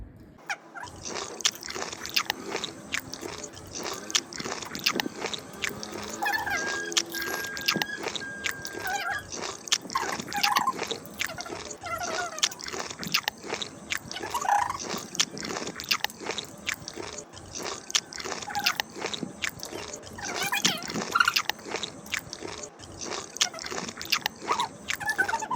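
Rapid, continuous chewing and crunching up close as someone hurries through a timed food-eating challenge, steady mouth noises with faint background sounds and no talk.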